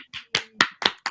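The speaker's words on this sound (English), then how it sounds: "round of applause for Sarah" A few people clap for the storyteller Sarah after a Christmas storytime reading. The claps come in five or six loud, separate bursts, close and uneven, more like a small group than a full crowd.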